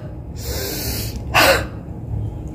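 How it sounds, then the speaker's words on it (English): A deep inhalation during a home breathing exercise: a slow breathy draw followed by a brief, sharper rush of air, close and clear against a quiet background. "Take deep inspiration,"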